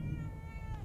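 A cat in The Evil Within 2 lets out one short, clear meow close up over a low background hum.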